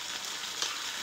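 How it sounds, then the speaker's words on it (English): A brief, steady sizzle of leftover-stuffing batter hitting a hot waffle iron, soft and close, with no voices. "You hear that sizzle?"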